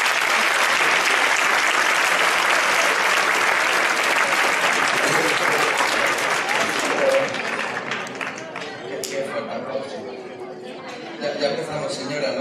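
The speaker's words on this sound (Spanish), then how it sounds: "Así que yo me voy a retirar y recibimos con un fuerte aplauso a Javichi." Loud, sustained applause from the audience at a 2013 magic gala in Leganés fills the hall for several seconds, then thins out into scattered claps and crowd chatter.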